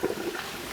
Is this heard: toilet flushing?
yes